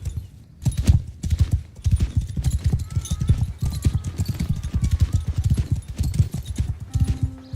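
Horse hooves clip-clop steadily in Mount & Blade 2 Bannerlord, a continuous rhythmic trot of many loud, close hoofbeats, with an occasional whinny and faint voices in the background.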